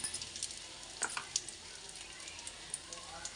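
Cumin seeds sizzling in hot oil with a pinch of asafoetida in a home kitchen pan, a faint steady crackle and hiss with scattered small pops.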